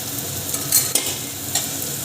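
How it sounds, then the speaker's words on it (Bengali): Tomato paste goes into a pan of fried onions, bringing a steady close sizzle and a few sharp stirring scrapes and clinks. "এবারে আমি একটা টমেটো পেস্ট করে রেখেছিলাম সেটা দিয়ে দিচ্ছি"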